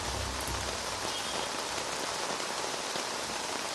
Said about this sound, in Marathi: मुसळधार पाऊस अनेक ठिकाणी पडतोय